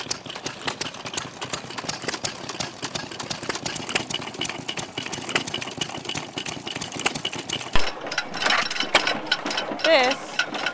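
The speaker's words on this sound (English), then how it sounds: "This is an antique ice cream maker. How cool is that?" An antique fuel-powered ice cream maker engine runs at an outdoor campground, with a rapid, even mechanical chatter and putter close by and a voice speaking over it.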